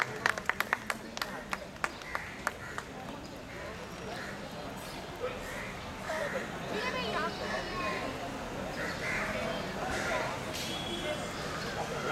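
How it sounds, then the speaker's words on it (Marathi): An audience at a school sports festival claps during a ceremonial lamp lighting, with scattered sharp claps early on, then fading into a murmur of talk and background noise. "सगळ्यांनी टाळ्या वाजवाव्यात आणि या ठिकाणी उपस्थित राहावे।"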